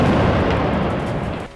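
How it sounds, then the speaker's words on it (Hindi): A loud, dense, continuous roar of explosions and gunfire rumbles through a night battle in Rafah, southern Gaza, close and heavy for a moment before it drops off sharply at the end. "रात के अंधेरे में चल रही इस जंग में धमाके और गोलीबारी की आवाज साफ सुनाई दे रही है।"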